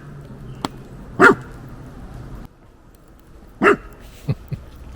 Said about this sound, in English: barking with a disc in his mouth.